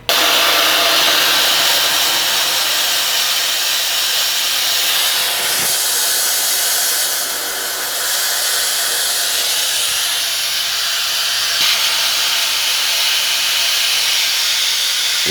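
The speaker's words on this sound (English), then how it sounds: "and then we'll start machining the part" A CNC machine cuts a coil conversion kit part for a GX470, with a vacuum running: a loud, steady hissing, whirring roar that holds for the whole stretch, with a brief dip midway and a faint knock near the start.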